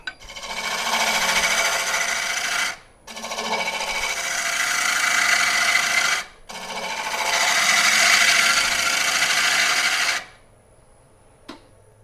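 Wood lathe taking slower, smaller cuts into a live edge burl, three sustained loud scraping, rasping passes of a few seconds each with brief pauses between, close and alone without talk.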